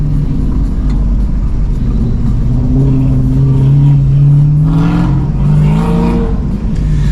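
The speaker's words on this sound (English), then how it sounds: "Hear the Autocross going over there." Distant autocross race car engines rev and rise in pitch across a busy car show background rumble, swelling louder toward the end.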